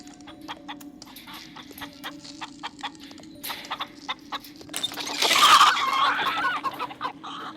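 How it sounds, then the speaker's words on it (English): Chickens cluck in scattered bursts in the audio game Papa Sangre, released on a snowy level with noisy frozen ice. The calls build to a louder flurry of squawks near the end. "Release the chickens to attract the hog"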